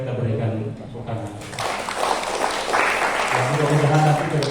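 Applause from attendees at an indoor Catholic religious educators' working-group meeting in West Kalimantan, clapping rising in the middle under continuing talk and a voice at the start and end.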